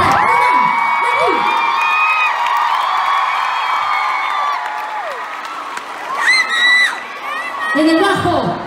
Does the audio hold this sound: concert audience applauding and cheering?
yes